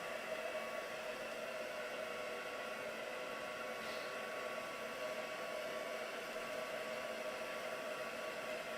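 Hair dryer blowing steadily on craft work, a constant whooshing hum and airy hiss at moderate distance, unbroken for several seconds with no voices.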